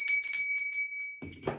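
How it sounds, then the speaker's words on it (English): A small bell rings in a few slow, clear strokes to clear a tarot deck, its bright tone lingering and fading before a soft handling sound. "Let me just do the bell slowly."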